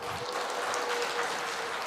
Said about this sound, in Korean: 지금 누구한테 박수 치는 거예요?